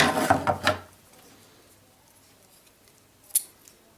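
Scissors or cutters snip the excess tail off a zip tie fastened over a square piece on a Spyderco Tenacious knife, a few close crisp cuts near the start, then quiet and one more sharp click.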